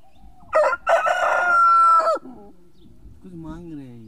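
A rooster being fed egg crows loudly and close by, one long strained call, followed by softer low clucking from nearby fowl.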